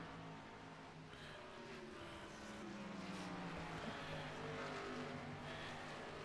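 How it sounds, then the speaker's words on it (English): Xfinity race cars lapping Michigan International Speedway during a fun run, a steady roar of engines with rising and falling pitch that grows slightly louder toward the end, heard from a distance without talk. "Xfinity cars from Michigan International Speedway"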